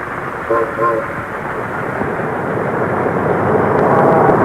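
The Sunrise Express, a streamlined train, rumbles past loud and close with a steady roar that swells toward the end, a short horn-like tone sounding early on.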